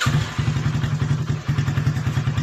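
A motorcycle engine, started remotely through a keyless-entry alarm module, idles close by with a steady, rapid thumping beat and slight mechanical clatter throughout.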